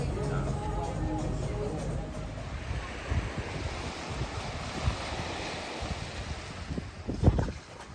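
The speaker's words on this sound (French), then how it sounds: "fin de journée, le vent s'est levé" Wind gusts rise at the end of the day on the Greek coast near Poros, a steady broadband rush of air mixed with surf and microphone buffeting, with a few thumps near the end.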